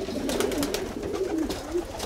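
A rescued pigeon coos close by, a series of soft low repeated coos in an even rhythm over faint background noise.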